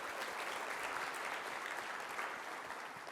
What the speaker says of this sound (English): It's, round of applause. Thanks, Betsy.